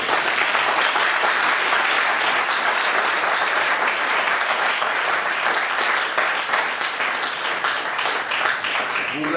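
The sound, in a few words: wedding guests applauding three couples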